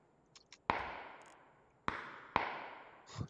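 Three sharp, loud bangs in a video game, each followed by a long ringing decay. They come at uneven intervals over faint background game noise.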